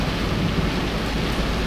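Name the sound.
heavy rain falling while driving a car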